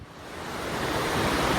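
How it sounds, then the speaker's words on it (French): Large cascade waterfall at the Parc de Sceaux, a tiered stone cascade of nine basins, gives a steady, dense rushing wash of water that swells slightly and stays continuous, with no voices over it. "Alors me voici au pied de la grande cascade"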